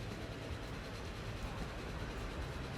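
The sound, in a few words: steam train in the video game Transport Fever 2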